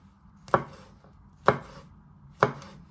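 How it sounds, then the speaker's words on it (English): A sharp knife chopping garlic on a cutting board, three crisp evenly spaced chops with quiet between them. "then you're going to slice it one way, and then finally slice it into little pieces"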